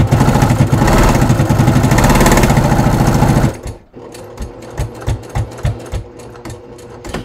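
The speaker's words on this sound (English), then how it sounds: "And then I'm going to top stitch up the side." Sewing machine top stitching up the side of a leather bucket bag, a loud fast continuous whir, then slowing into separate punchy stitches.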